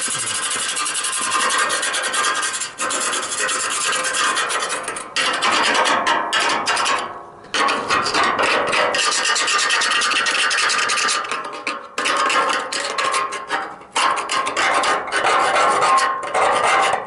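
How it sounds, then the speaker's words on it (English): Metal on a 1986 Chevy K10 truck body is sanded down to bare metal, a loud abrasive rasp running in long strokes with brief pauses between passes, up close. "You sand that down to white metal, and it's good as new."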